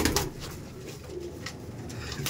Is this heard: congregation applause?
no